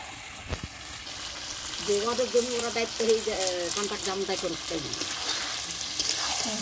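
Village-style chicken curry simmering and sizzling in its own oil, a steady close frying hiss with soft bubbling, while someone talks over it.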